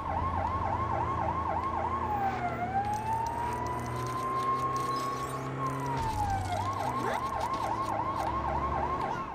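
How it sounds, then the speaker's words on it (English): A wailing emergency siren in the video game Lego City Undercover cycles rapidly, shifts into a long slow rising-and-falling wail, then returns to the fast yelp over steady engine rumble. "Turn on the sirens."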